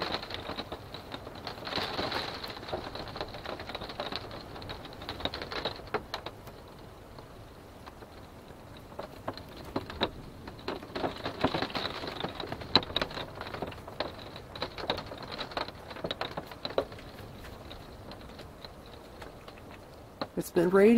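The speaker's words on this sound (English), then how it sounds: "That's how loud the rain's been." Rain patters irregularly on the roof of an Aliner camper trailer while boondocking, a soft close clatter of scattered drops that thickens and thins over about twenty seconds.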